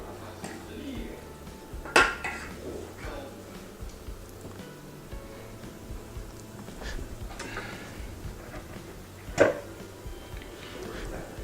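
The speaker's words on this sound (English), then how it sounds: "So now I'm going to stir the whole thing together again." Spoon scraping and clinking against a metal pot while food is stirred, soft shuffling with two sharp clanks, one early and one late, under a near-continuous background hum.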